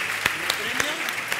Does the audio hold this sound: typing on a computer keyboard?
no